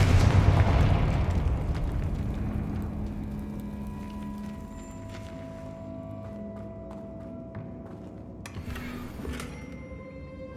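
Confringo spell from Hogwarts Legacy, a loud explosive blast at the start whose rumbling boom decays over several seconds, followed by softer magical tones and a brief bright crackle near the end.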